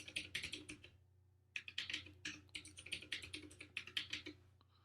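Keys clatter in rapid bursts on a computer keyboard as a password is typed, with a short pause midway before the tapping resumes, close and fairly quiet over a steady low hum.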